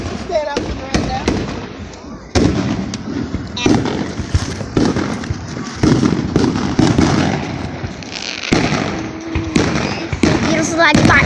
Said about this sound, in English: They got them big fireworks.